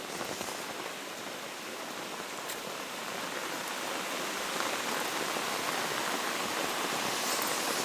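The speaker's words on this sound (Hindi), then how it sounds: "इतनी तेज बारिश हो रही है यहाँ।" Heavy rain pours on land where water has flooded a path and filled a formerly dry stream channel. A dense, steady hiss of rainfall and running water grows slightly louder toward the end, with no voices.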